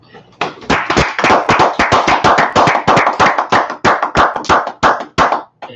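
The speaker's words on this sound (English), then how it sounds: "Let's clap it up." A group of people clap their hands together at a feast of dedication gathering, a steady run of loud, close, sharp claps keeping a quick rhythm for several seconds before stopping.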